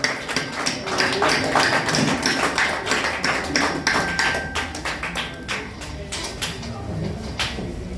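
A crowd claps at a JCI Conakry professional-orientation coaching launch event in Guinea. The sharp, overlapping hand claps fill the room steadily and slowly thin out toward the end.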